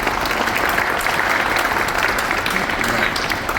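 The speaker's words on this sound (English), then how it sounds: "let's give him a round of applause for what he's done" An audience at a railroad museum anniversary event claps in a dense, sustained burst of applause, loud and even from start to end.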